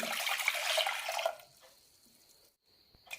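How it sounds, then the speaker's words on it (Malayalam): Two cups of water splash and pour steadily onto washed lentils in a pot for over a second, then stop, leaving a faint high ringing tone and a small knock near the end. "ഇതിലേക്ക് രണ്ട് കപ്പ് വെള്ളം ഒഴിക്കാം"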